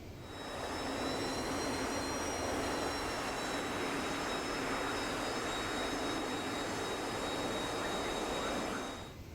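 An AJS 37 Viggen jet in DCS roars steadily with its thrust reverser engaged, a loud broadband rush with thin high whines running continuously for about nine seconds before cutting off abruptly.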